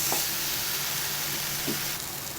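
Ingredients for paneer butter masala sizzle steadily in a hot pan, a constant frying hiss broken by a few soft stirring scrapes.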